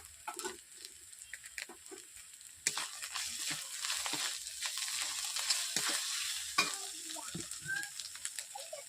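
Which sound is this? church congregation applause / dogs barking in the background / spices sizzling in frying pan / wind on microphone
spices sizzling in frying pan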